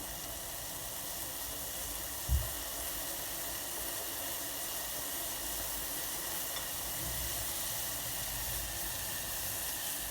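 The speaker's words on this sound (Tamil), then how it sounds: "இப்போ இந்த தண்ணியை நம்ம நல்லா கொதிக்க வைக்கணும்." Water simmers in a pot with a steady soft hiss and faint bubbling, broken once by a brief knock.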